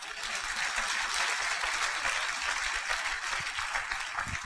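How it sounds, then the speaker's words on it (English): A church congregation claps together during a prophet's sermon, a dense, lively patter of hands at an even, fairly strong level, with some low thumps underneath. "Clap for yourself."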